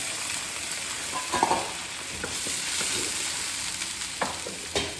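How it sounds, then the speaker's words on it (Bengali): Water hitting a pan of Kashmiri dried chillies frying in oil, giving a steady, loud, close sizzle with a few stirring scrapes and knocks, and no voices. "এবার এতে আমি জল দেব, নাহলে শুকনো লঙ্কাটা মানে কাশ্মীরি শুকনো লঙ্কাটা পুড়ে যাবে, ওই জন্যে জল দিয়ে দিলাম।"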